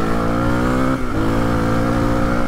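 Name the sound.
Suzuki DR 350 enduro motorcycle engine revving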